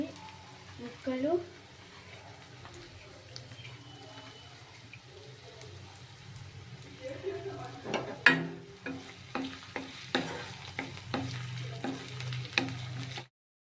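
Green chilli, ginger and garlic pieces frying in a pan, a steady sizzle under sharp clinks and stirring taps of a utensil that grow busier toward the end.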